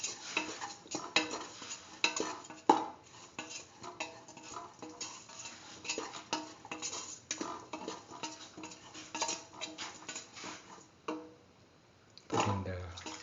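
A spoon stirs a pot of split mung bean stew with rhythmic scraping and clinking against the pan, close and fairly quiet, with a soft background sizzle.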